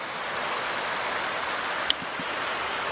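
Mill Creek flows near its falls in a constant broad rush of water, fairly loud and even, with one brief sharp tick partway through.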